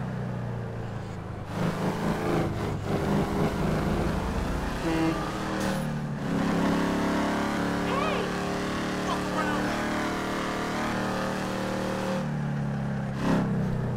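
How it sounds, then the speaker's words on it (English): Steady engine and exhaust drone of a 2015 Ford Mustang GT in the GTA 5 video game, with continuous revving and a few rises in pitch, loud and sustained throughout. "2015 Mustang GT is off the charts, guys. And this exhaust note is amazing."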